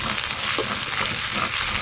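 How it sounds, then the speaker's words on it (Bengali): Chopped onion hitting hot mustard oil already tempered with dried red chillies and five-spice, giving a steady, close, loud sizzle and crackle throughout, with no voices. "ফোড়ন ভালো করে হয়ে গেছে, এবার পেঁয়াজ কুচি দিয়ে দেব।"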